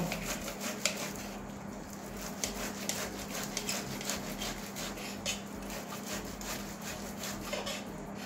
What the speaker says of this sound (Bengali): আমি এই ঘষনির মধ্যে এভাবে ঘষে নেব, একটু টাইম লাগবে।